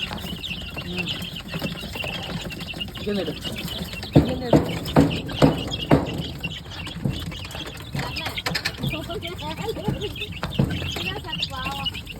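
Chickens in a poultry coop with young chicks, a series of clucks and chirps near and far, under someone talking.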